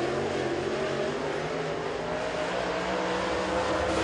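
Race car engine roaring steadily as a car comes out of turn three on Volunteer Speedway during Carolina Clash qualifying, a continuous loud drone held throughout with no voices.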